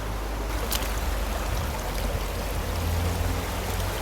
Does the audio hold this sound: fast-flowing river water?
yes